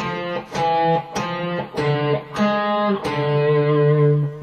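A cello plays the third and fourth systems of the Prelude from Bach's Cello Suite No. 1, with bowed arpeggiated figures in a steady repeating pattern, close and clear, each note group starting with a firm attack, no voices.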